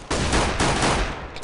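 Rapid gunfire in a competitive shooter video game, a loud continuous burst of shots filling the short moment, close and dominant.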